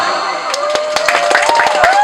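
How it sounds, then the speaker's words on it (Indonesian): Applause at a district-level Qur'an recitation contest for a participant from Seranggam village: scattered claps ring out over a sustained musical tone, building into a denser patter of hands toward the end. "Sekali lagi tepuk tangan Seranggam"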